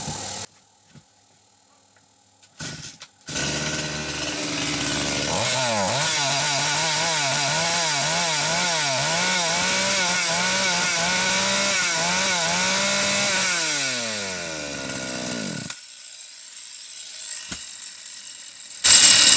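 A forestry chainsaw that is hard to start runs loud and close, its engine revving and bogging in a wavering, uneven rhythm for about ten seconds before dying away, with short bursts of noise around it.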